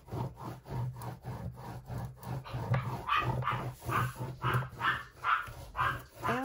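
A dog barks repeatedly in a steady rhythm, mixed with a rhythmic rubbing or scraping sound nearby.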